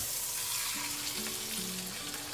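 Pot roast beef browning in a hot pan where ribeye was cooked earlier, a steady close sizzle and frying hiss throughout with faint tonal hum underneath and no talking.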